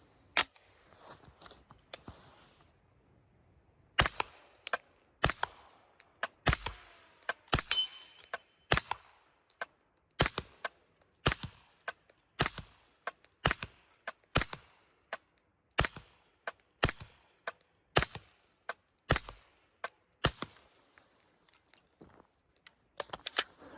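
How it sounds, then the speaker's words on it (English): SPC9 Pro PDW pistol firing 165 grain Hush ammunition outdoors, a string of about fifteen sharp, loud reports at a steady, unhurried pace, each cracking out and decaying quickly, with no talk over the shots. "Last but not least, it'll be the 165 grain Hush ammo. I'll do the same thing. 5 on target, 10 in the dirt."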